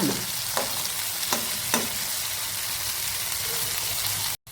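Mackerel wrapped in banana leaf and coated in special masala fries in a pan with a constant close sizzle, broken by a few soft scraping stirs near the start, and no talking.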